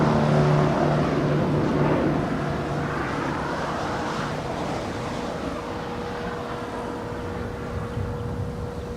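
A four-year-old Airbus A320 airliner departing Los Angeles International Airport, its jet roar loud and broad at first, then easing slightly while holding as a steady rumble, with no voices.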